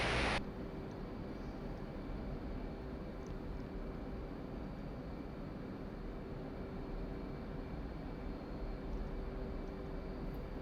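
F/A-18C Hornet jet engines spooling up in the DCS flight simulator, heard as a steady, even low drone that holds level without talk.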